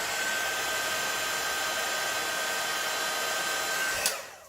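A heat gun blows a steady, even hiss of hot air over card during heat embossing, running for several seconds before cutting off with a small click.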